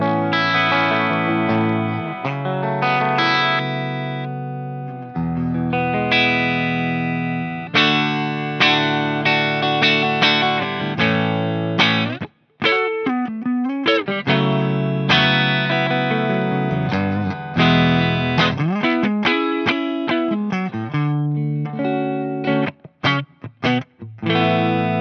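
Electric guitar played through a blue Marshall 30th Anniversary amp head with the mid-shift control engaged, giving a JTM45-style clean tone; continuous chords and single notes ring close and fairly loud, with a few brief pauses.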